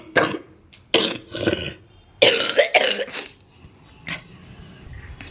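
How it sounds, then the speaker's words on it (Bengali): A person has a close coughing fit of several harsh, explosive coughs in quick bursts, separated by short pauses and a final weaker cough, with no talking. "এমন জন্মের কাশি উঠলো, চোখ মুখ দিয়ে জল বেরিয়ে গেল"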